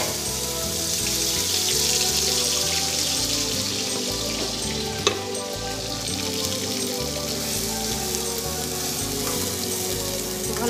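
Spices sizzle steadily in hot oil in a pan as the base for a Rahu fish mustard gravy, a continuous close frying hiss with a faint background music tone and no speech.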